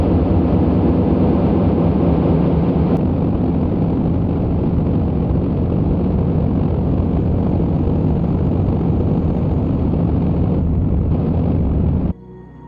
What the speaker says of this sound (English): that was a pretty long burn